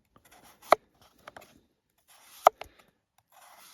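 A Badger Outdoor Orix folding knife with a D2 steel blade bites into dry pine wood in a few sharp, isolated cuts with short scraping crackles after each, separated by quiet pauses.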